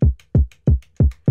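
Punchy kick drums distorted with the Decapitator plugin in FL Studio hit five times at an even tempo in a beat, each hit booming and gritty, with short hi-hat ticks between them.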